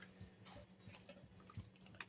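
Water poured into a pot of chicken that was soaked for two hours, a faint, steady trickle and splash with a few small drips.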